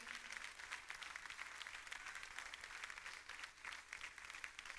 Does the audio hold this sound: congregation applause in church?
yes